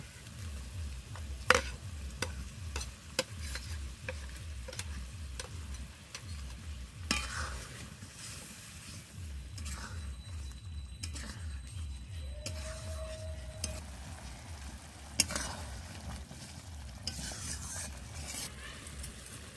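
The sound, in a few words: fried fish added to the pan and sizzling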